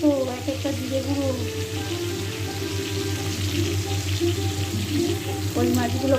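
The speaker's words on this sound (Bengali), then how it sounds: "ওই মাছগুলো ভাজতে দিলাম" Fish fry in hot oil with a steady, loud sizzle and crackle that runs throughout, with faint clinks and a brief voice underneath.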